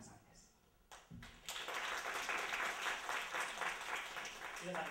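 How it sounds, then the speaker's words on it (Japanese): After a couple of knocks, audience applause swells up and holds steady and fairly loud, welcoming a choir onto the stage at a thanksgiving festival. "大きな拍手で、お迎えください。"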